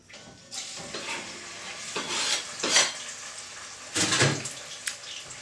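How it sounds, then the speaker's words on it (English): Tomato goes into onions cooking in a pot, giving close stirring scrapes and sizzling bursts that swell and fade in uneven waves, with light clinks of a utensil against the pot and nobody speaking. "let me just put the tomato in the onion"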